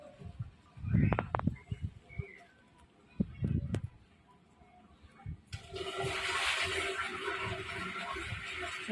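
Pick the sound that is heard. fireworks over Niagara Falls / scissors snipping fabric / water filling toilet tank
water filling toilet tank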